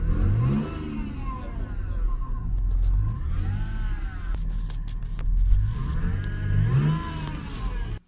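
A car started with its key, its engine then revving up and down in repeated swells at close range, steady and moderately loud, cutting off abruptly at the end.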